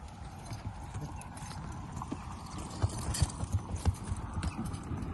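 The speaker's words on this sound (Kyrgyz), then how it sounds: "Келишкен ат экен." A horse's hooves clip-clop in a steady, fairly close rhythm, with a few sharper strikes toward the end over a low background hum.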